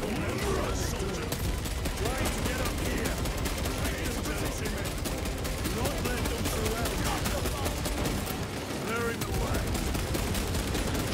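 Heavy bolter fire in Warhammer Space Marine 2, a relentless loud automatic barrage with thumping impacts, continuous for several seconds amid battle noise.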